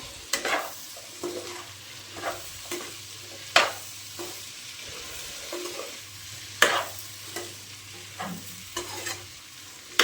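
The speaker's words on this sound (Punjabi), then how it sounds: "ਭਿੰਡੀਆਂ ਲੱਗੀ ਤੜਕਾ ਲਾਣ ਮੈਂ" Okra being tempered with spices in a hot pan for a home-cooked sabzi, the oil sizzling steadily while a spoon stirs and scrapes in repeated bursts close by.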